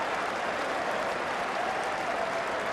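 A cricket crowd at the 2005 Ashes first Test between England and Australia keeps up steady, distant applause and crowd noise, an even wash with no single voice standing out.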